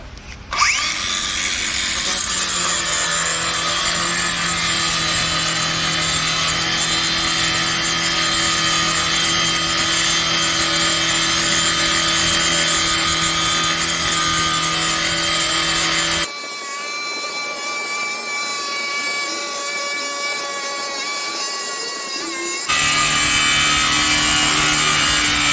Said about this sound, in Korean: 그래서 그라인더로 이제 엑스락으로 진행하려고 했는데 5인치라 날이 속으로 안 들어가는데 7인치 같은 경우는 들어갈 것 같아